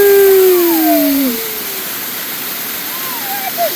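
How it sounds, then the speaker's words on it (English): A waterfall gives off a steady, loud rushing hiss of falling water, with drawn-out shouting voices over it at the start and again near the end. "Waterfall!"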